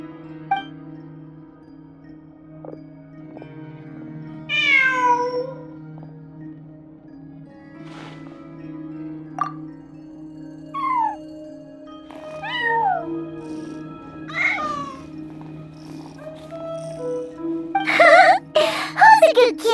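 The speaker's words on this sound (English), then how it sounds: "Who's a good kitty?" A cat in Genshin Impact meows several times, each call a clear, rising-and-falling cry spaced a few seconds apart over a steady low hum, ending with a brief burst of rustling noise.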